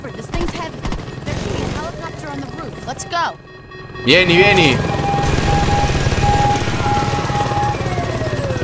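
Helicopter in the Saints Row 2 video game, a loud, steady rotor and engine drone that swells in and holds through the second half, under game effects and a person talking.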